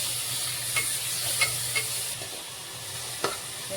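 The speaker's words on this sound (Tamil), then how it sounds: "அரைச்சி வச்ச வெங்காயத்தை போட்டு நல்லா வதக்கிக்கணும்" Ground onion paste sautéing in a pan, a soft continuous sizzle with a few faint stirring clicks, quiet and close with no talking.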